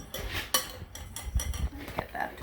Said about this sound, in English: we're gonna give this another good mix here